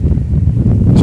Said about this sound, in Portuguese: Tá ventando bastante.